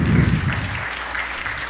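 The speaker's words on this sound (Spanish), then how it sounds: "Dele un aplauso al Señor así sentado para que no se pare" A seated church congregation gives a short burst of applause during a weekday service, loud at the start and quickly settling into lighter, even clapping.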